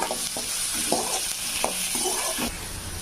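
Steady oil sizzle with a spoon stirring and scraping through chopped onions and curry leaves in a pan, continuous and close.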